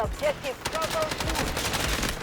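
Gunfire in the Delta Force video game, rapid bursts of automatic shots crackling close and loud through the whole stretch, with a voice talking briefly underneath.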